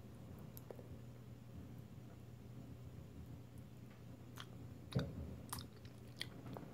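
Someone chewing microwaved Mike and Ike candy close up, with soft, quiet mouth noises, a louder bite or crunch about five seconds in, and a few faint clicks afterward.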